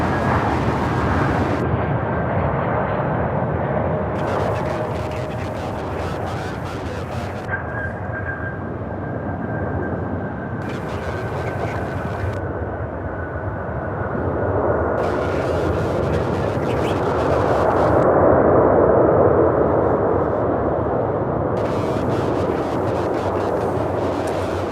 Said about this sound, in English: that's up next after this A321 out of Tampa